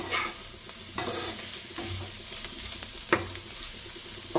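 Dried red chilies and cumin stirred in a pan over a low gas flame, a soft constant sizzle with several scraping strokes of the spoon, close up and without talk.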